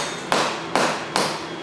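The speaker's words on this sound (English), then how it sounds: "take a plastic hammer and just kind of strike around where the mating surfaces might be." Three evenly spaced, sharp knocks of a plastic hammer striking the intake manifold of a Chevrolet 454 big block engine during teardown, close and loud with no voices.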